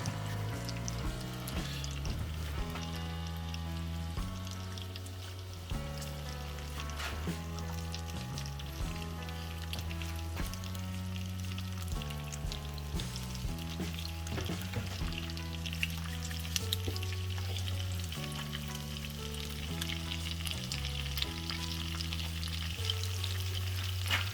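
Onions and cashew nuts fry in butter in a pan with a steady, close sizzle and occasional stirring, running continuously under prominent background music.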